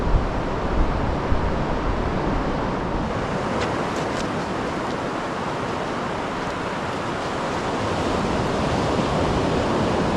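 Ocean surf breaking on a Gower beach at Pwll Du, a constant loud wash of waves and wind roaring close by with no clear breaks.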